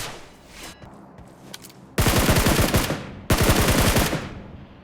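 Gunfire in a shooter video game: two long, loud bursts of rapid automatic fire, each over a second long, after quieter scattered shots and background game noise.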